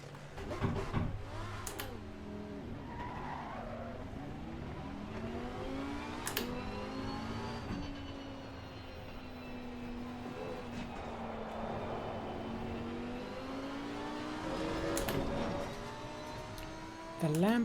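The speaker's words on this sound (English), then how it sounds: "Alright, the Lamborghini Huracan GT3 Evo." Lamborghini Huracan GT3 Evo race car engine in Assetto Corsa Competizione, a steady droning note that rises and falls through gear changes, with sharp shift blips and a louder rev near the end, under occasional talk.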